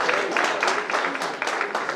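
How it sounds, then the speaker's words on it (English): Scattered applause breaks out for a graduating senior called forward at a school breakfast, with short bursts of clapping that start, fade and restart over the two seconds, at moderate level with a light murmur of people underneath. "Shane got the special clap if we can keep it to one, like golf clap."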